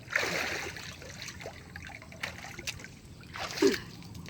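Cold flood water left by a typhoon in a flooded vegetable garden splashes in two or three faint, brief bursts, separated by quiet stretches of low ambient noise.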